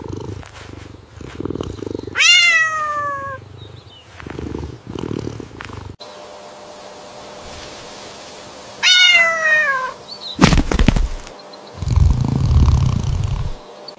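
Two clear, drawn-out cat meows, several seconds apart, with rumbling purring and soft low noises in between.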